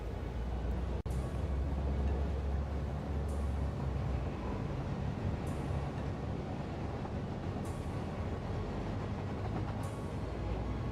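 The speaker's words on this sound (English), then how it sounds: "We'll have a train come over." A train arrives in the video game Satisfactory with a steady low rumbling roll and rail clatter, one sharp click near the start and faint periodic hissing bursts over the continuous rumble.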